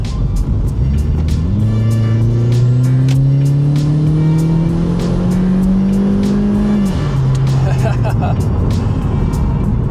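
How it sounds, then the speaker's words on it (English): A Mitsubishi Evo 9 wagon driving on roads in north Wales, its engine note rising steadily through a gear then dropping on the shift, loud and close inside the cabin, with a voice talking over it. "Now I'm driving through the north of Wales in an Evo 9 wagon."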